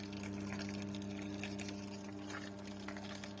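Steady pattering rush of water flowing into an Electrolux washing machine showing error 66, over a constant low mechanical hum.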